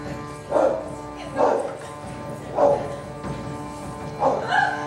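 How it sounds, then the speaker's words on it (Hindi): A dog barks in four separate, fairly loud yelps spaced a second or so apart, with quiet background between them, set within a staged folk performance at a cultural festival. "ये कुत्ता क्यों भौंक रहा है"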